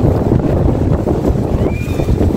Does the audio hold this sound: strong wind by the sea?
yes